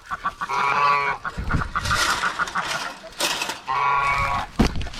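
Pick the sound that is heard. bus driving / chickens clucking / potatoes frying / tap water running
chickens clucking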